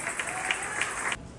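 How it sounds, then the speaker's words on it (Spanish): A church congregation claps together in a brief burst of applause, a quiet steady patter of many hands that cuts off abruptly after about a second. "denle un aplauso a su nombre"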